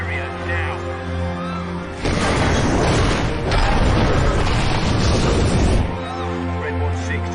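A detonated device explodes in an action film, a loud sustained roaring blast lasting about four seconds that cuts in over a low humming score and then falls back to it.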